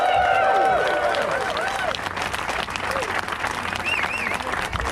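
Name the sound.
crowd applause at awards event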